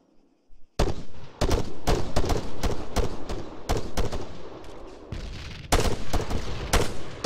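Heavy squad gunfire in the military video game ArmA 3, many sharp rifle cracks and bursts in quick succession after a short quiet start, a continuous loud firefight with no talking.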